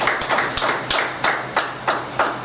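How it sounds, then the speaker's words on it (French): Audience applause for a student at an African Children's Day event in Cameroon, heard as a short burst of hand clapping with sharp, evenly spaced claps rising above a quieter spread of background clapping, with no talk. "Applaudissements pour lui s'il vous plaît."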